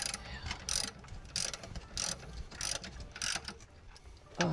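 A ratchet wrench snugs up bolts on the synchronized transmission of a 1929 Ford Model A Roadster, giving about six quick bursts of close, crisp clicking with short pauses between strokes.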